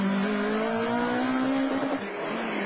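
A Ford Escort Mk2 rally car on a stage of the 2004 Carlow Mark 2 Escort Challenge, engine loud and close with a rising then falling rev pitch as it drives through, briefly easing off near the end.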